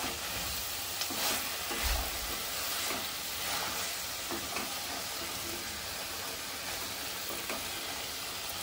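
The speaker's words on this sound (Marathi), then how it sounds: "मिक्स करते चांगलं." A spoon stirs dry shrimp and brinjal curry in a hot pan, with a steady sizzling hiss throughout and soft, repeated scraping strokes close by, no talking heard.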